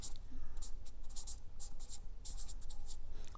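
A paragraph is written by hand. A pen scratches steadily and close on paper in short, continuous strokes, alone and without talk.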